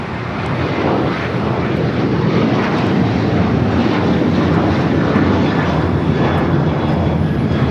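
An Alaska Airlines Boeing 737-900ER jet taking off at Los Angeles International Airport, a loud continuous roar of engines at full power that holds steady throughout.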